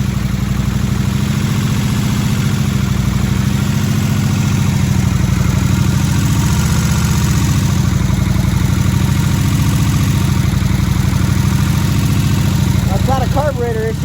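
A 2003 Kawasaki Vulcan VN1600 motorcycle engine idles steadily and loudly up close, a continuous low rumble with an even throb that keeps going from start to finish.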